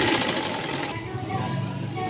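A sewing machine runs steadily while stitching the lining of a blouse, a close, continuous mechanical whirr that shifts slightly in pitch midway, with someone talking over it.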